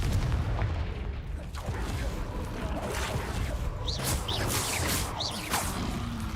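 Confringo blasting spell explosions in the game Hogwarts Legacy, a few sharp whooshing bursts and booms over steady background rumble, with a voice speaking.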